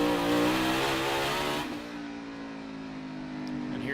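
Onboard engine of Kurt Busch's NASCAR Cup Series race car, loud and steady with a strong harmonic drone that drops in pitch midway as the car lifts, then holds a lower, rougher note.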